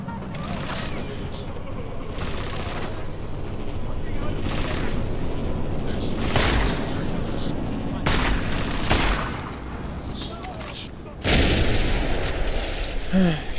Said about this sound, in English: Shotgun works wonders.